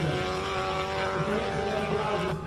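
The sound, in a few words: highly modified Subaru BRZ racing up hill climb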